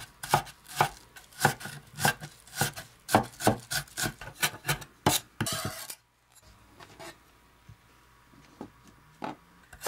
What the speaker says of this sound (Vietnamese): Cắt nhỏ hành tỏi mình cho vô cối nha